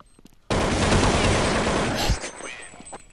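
Dense, sustained burst of rifle fire in a Counter-Strike match on the de_dust2 map, a loud continuous fusillade for about a second and a half before cutting off into quieter scattered game sounds.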